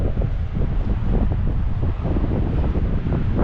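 Strong wind buffeting the microphone at a beach on Jeju, a steady loud roar with gusty fluctuations throughout and no speech.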